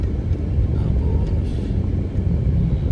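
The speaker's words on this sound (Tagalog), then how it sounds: "Yan, sakay tayo ng tricycle." Steady low rumble of a motorized tricycle engine heard from aboard during a ride, continuous and fairly loud, with a brief spoken word over it.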